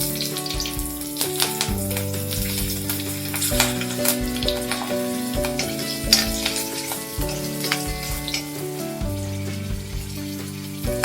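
Green and dried chilies fry in oil after mustard seeds have popped, for tomato theeyal: a continuous sizzling crackle running under prominent background music, with no speech.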